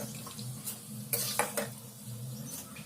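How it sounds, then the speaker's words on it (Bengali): Peanuts frying in hot oil in a pan at home, a soft steady sizzle broken by a few quick scraping clinks of a spatula stirring against the metal. "এই তেলের ভিতরে বাদামগুলো একটু ভেজে নেব"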